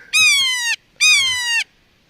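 A kea, New Zealand's alpine parrot, gives two loud, close, drawn-out shrieking calls with a brief gap between them, heard alone in rugged west coast high country.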